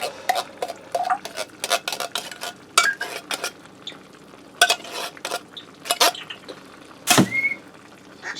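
A spoon scrapes and clinks in a pan while spreading canned cream of mushroom soup over pork chops, with repeated close, sharp metallic taps and scrapes in an irregular rhythm.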